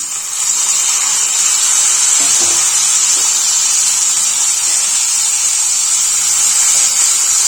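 Onion, tomato, curry leaves, coriander and garlic fry in a pan for obbattu saaru, giving a continuous loud, hissing sizzle that holds steady throughout with no talking.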